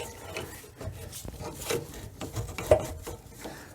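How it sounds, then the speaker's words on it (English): A screwdriver prying and turning a snap ring off the stock rear shock of a Suzuki V-Strom DL650 motorcycle: close, uneven scraping and rubbing of metal with small clicks and one sharper knock near the end. "I push the hole upward, turning at the same time with the screwdriver."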